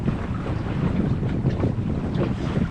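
Steady wind rushes over a sailboat under way at sea in fine weather near the Triagoz lighthouse, with water washing against the hull, loud, close and continuous with no voices.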